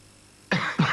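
Two sharp dry coughs follow close together after a moment of near silence, loud and close, in a 1994 French cough syrup advert.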